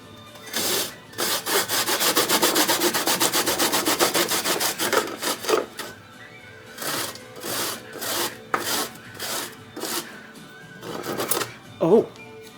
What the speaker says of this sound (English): This is like zesting.